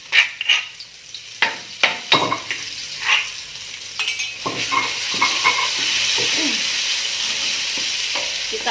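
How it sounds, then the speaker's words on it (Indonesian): Ground spice paste sizzling in a wok with browned onions for Kalimantan-style asam pedas with patin fish, a spatula scraping and stirring in irregular clanks before the frying settles into a steady hiss. "Kita aduk, kita osreng-osreng sampai aromanya muncul ya sahabat."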